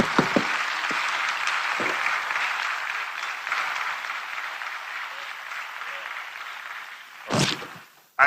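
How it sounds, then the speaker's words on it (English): Audience at a South East venture capital investment ceremony applauds steadily for several seconds, a dense sustained clatter of clapping that fades out near the end after a sharp louder burst. "I think he deserves a bigger applause"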